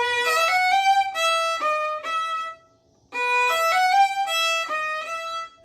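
A solo violin plays a quick slurred run of clear, bright notes from Bach's Brandenburg Concerto No. 3, stops briefly, then plays the same passage again up close.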